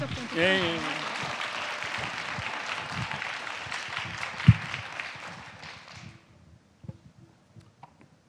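An audience at a university admissions and career concert applauds to welcome a speaker, a broad crowd clapping that stops abruptly after about six seconds, leaving scattered faint sounds.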